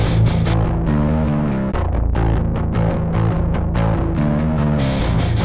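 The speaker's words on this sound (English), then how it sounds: "I just use it here to add quite a lot of distortion actually" Thick, heavily distorted metal guitar chords chug in a driving rhythm, loud and saturated, with a brief cut in the middle.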